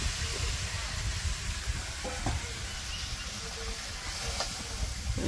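Vegetables hitting fried spice paste in a village-style kitchen pan give a steady, close sizzle, with stirring scrapes throughout and no voices.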